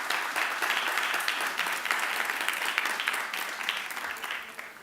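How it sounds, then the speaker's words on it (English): Audience applause at a youth political debate: steady clapping from a crowd indoors, fairly dense and sustained for about five seconds before beginning to fade. "Give him a round of applause."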